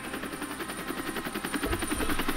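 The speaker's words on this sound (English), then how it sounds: "Police battle helicopter" Police battle helicopter in the Lego Batman PC video game, a rapid pulsing rotor chop with a rattling, gunfire-like rhythm, steady and moderately loud, swelling slightly toward the end.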